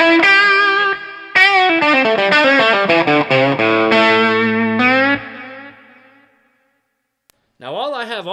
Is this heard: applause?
no